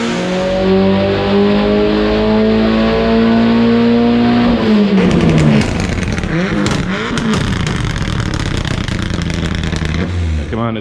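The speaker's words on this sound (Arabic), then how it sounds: "هاي السيارة وهي الموتور تبع السيارة، عليها 1008 تيربو" A turbocharged race car with a GT28 turbo, revving hard in the pits before a speed test, climbing through rising engine notes, then dropping into rapid throttle blips and crackle. The engine is loud and close, with voices talking underneath.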